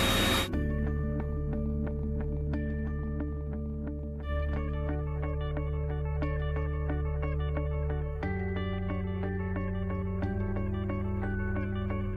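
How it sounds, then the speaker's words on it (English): An Intex PureSpa portable spa pump inflates the tub with a loud, steady, humming motor drone that runs continuously after a brief burst at the start, with a slight shift in pitch partway through. "push the bubble button, which starts up the pump, and it starts inflating the tub actually"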